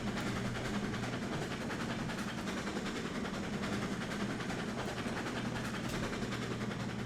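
A steam train rolls along in the video game Railroads Online, giving a steady, moderately quiet rumble with a faint rhythmic clatter of wheels, unbroken and without voices.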